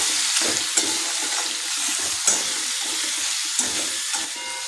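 Raw mango sizzles in a pan as turmeric and asafoetida are stirred in, giving a continuous close hiss of frying with a few soft scrapes and taps of the spoon against the pan.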